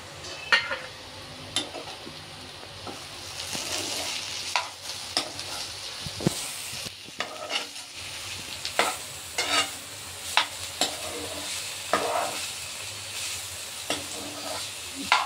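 Bitter gourd frying in an Andhra-style pan curry with turmeric and salt, a continuous soft sizzle broken by repeated scraping stirs of a spoon against the pan, close and without talking.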